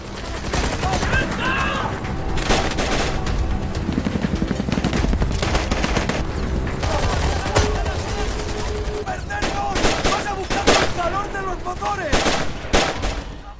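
Rapid bursts of gunfire in a battle at Bala Murghab, Afghanistan, repeated sharp cracks and automatic volleys throughout, with shouting voices mixed into the chaotic din.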